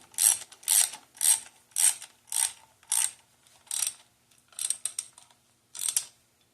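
Ratchet wrench tightening a bolt on the manual select lever of a Ford AOD transmission, about ten evenly spaced clicking bursts close up with brief pauses and no speech.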